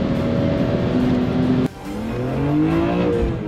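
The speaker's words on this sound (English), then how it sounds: "Buckle up as we take you on an exhilarating ride with the iconic BMW E34 M5, a true legend in the automotive world." A BMW E34 M5 sports sedan driving, its engine droning steadily and loudly, then briefly cutting off as a gear changes before climbing in pitch again under acceleration. No voices.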